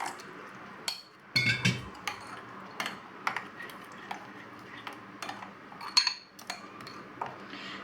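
Spoon clinking and scraping around a bowl while soaked rava batter for kara paniyaram is mixed, a steady run of close metallic taps and scrapes with brief pauses, one louder clatter near the start.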